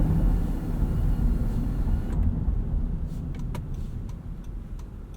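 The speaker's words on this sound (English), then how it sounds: "there's just a little bit more tire noise with these all-terrain Continentals" Steady low rumble of all-terrain Continental tire and road noise heard from inside a moving 2023 Honda Pilot Trailsport, continuous and fairly loud, with a few faint clicks.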